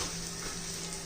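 Green chillies and garlic fry in a pan for green chilli kharda, giving a steady, faint sizzle of oil throughout.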